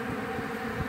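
Honey bees feeding on flour and confectioner's sugar in midwinter give off a faint, steady buzzing hum with no other sounds over it.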